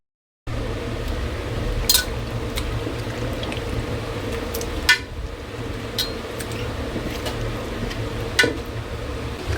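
Pav bhaji vegetables cook in a large pot, giving a steady low bubbling and simmering murmur broken by a few sharp metallic clinks and knocks of utensils against the pot, close by with no talking.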